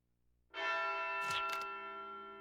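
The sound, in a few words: funeral chimes, church bells, from the video game Wild Arms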